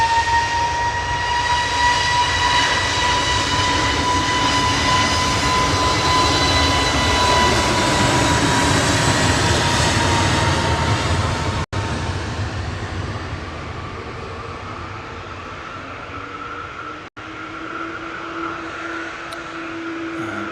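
A Jet2 airliner bound for Antalya departs Manchester Airport in the evening, its engines giving a loud, steady roar with a whining tone that holds for a long stretch and then eases slightly as the aircraft climbs away.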